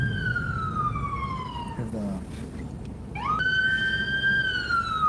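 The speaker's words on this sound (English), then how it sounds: "Ambulance trying to get through." An ambulance siren wails through city traffic in the Bronx toward upper Manhattan, its long sweeping tones dipping, breaking off briefly, then returning loud and close above engine rumble, with a brief voice.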